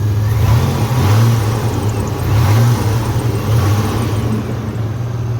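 A 2001 Chevy Blazer with a K&N intake and new alternator revs steadily after warming up, a loud, close engine drone with rising and falling throttle swells throughout.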